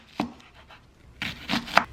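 A knife slices an onion on a cutting board, with a few sharp taps spaced apart, then a quicker cluster of crisp cuts, close and fairly faint.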